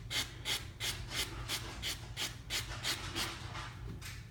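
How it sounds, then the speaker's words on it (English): A sanding sponge lightly rubs a fishing rod reel seat in a circular motion, making soft, close, rhythmic scratchy strokes, about three per second, that repeat steadily and quietly. "I'll take a sanding sponge and just lightly sand them in a circular motion like that."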